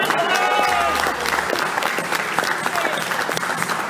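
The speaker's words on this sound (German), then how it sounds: "Applaus, meine Damen und Herren." Audience applause at a Turkish night show in a hotel in Türkiye, a steady dense clapping from a sizable crowd, close and loud throughout, with faint voices mixed underneath.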